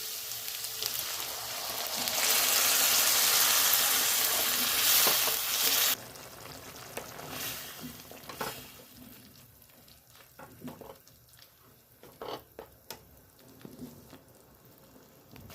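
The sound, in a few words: tomato gravy added to frying capsicum in pan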